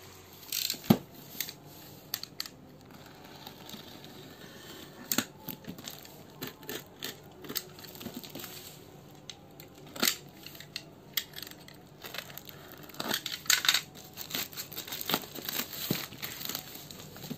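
A drone parcel being unboxed and its packaging cut open, with scattered crinkling plastic, sharp snips and small clicks at close range, irregular and fairly quiet, with no voices.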